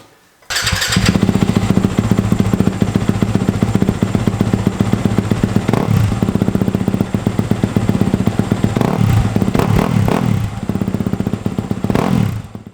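A Yamaha YZ250FX dirt bike fitted with a GYTR fan kit, parked outdoors in a California national forest, starts abruptly up close and settles into a loud, steady idle, with several sharp throttle blips toward the end.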